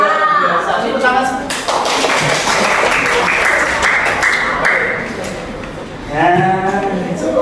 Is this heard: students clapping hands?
yes